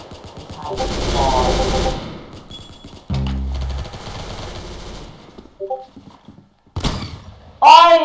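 Automatic gunfire in the Roblox shooter Arsenal comes in loud bursts of rapid shots, with several sharp thumps and short pauses between them, and a person speaks in between.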